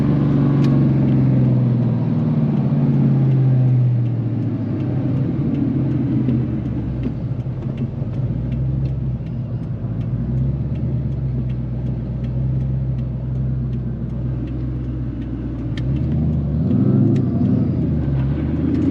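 A 2003 Ford SVT Cobra with a T56 Magnum transmission rumbles steadily from inside the cabin as it revs down, a loud, deep, continuous engine drone with no talking.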